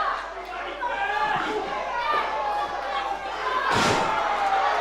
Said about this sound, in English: Ethan slams down Ryan Hunter.